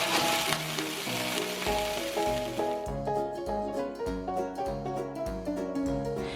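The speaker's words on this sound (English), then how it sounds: "First, I'm gonna go ahead and brown my sausages in a fry pan." Sausages browning in a fry pan give a steady sizzle, mixed with tonal background music that carries on under the frying the whole way through.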